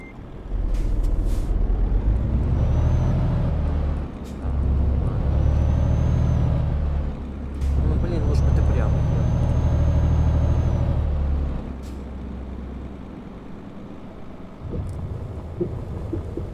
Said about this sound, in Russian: Торможение.